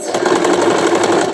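A sewing machine stitches through thick denim from old jeans in a loud, close, steady whir with fine rapid ticking, alone and without talk.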